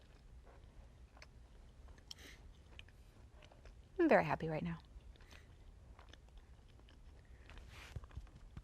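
Chewing a chocolate caramel macaron with a slightly crunchy shell and soft cookie: one short, close crunchy bite burst in the middle, surrounded by quiet room noise and someone talking.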